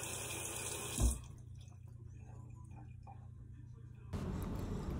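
Tap water runs over a Kai Captain shavette razor fitted with a Kai Guard blade, a loud rushing stream at the start that drops to a quiet trickle, then surges back near the end.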